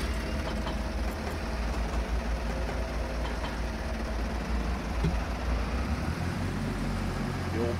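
A tractor engine idles steadily in Farming Simulator 22, a low continuous rumble holding an even level throughout with no talking over it.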